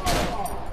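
Rapid bursts of gunfire from an enemy doctor in the horror game Cry of Fear, dense and loud for under a second.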